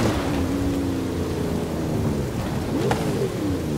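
A Forza Horizon 5 thunderstorm in a lost-city setting: steady heavy rain hiss under a deep rolling rumble of thunder, with a sharper crack near the end.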